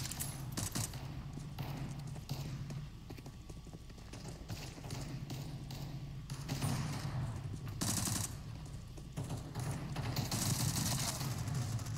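Rapid video game gunfire crackles in repeated bursts over a steady backdrop, with sharp shots coming close and loud throughout.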